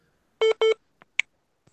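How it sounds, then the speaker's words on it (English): Two short, identical electronic beeps in quick succession, followed by a few faint clicks in otherwise quiet surroundings. "What was that beeping?"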